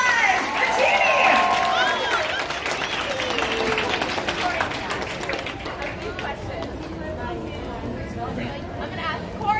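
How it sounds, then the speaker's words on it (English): Applause and cheering from an outdoor Broadway crowd for the actor who played the genie in an Aladdin touring production, steady clapping and chatter through the whole stretch with voices mixed in. "Round of applause, the genie!"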